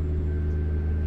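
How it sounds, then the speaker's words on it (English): A Peterbilt 359 hauling an oversize load in American Truck Simulator gives a thin, steady ringing whine as cruise control manages deceleration, sitting over a constant low engine drone for about a second. "ringing, whirling, weird sound in the background is when the cruise control is controlling the deceleration"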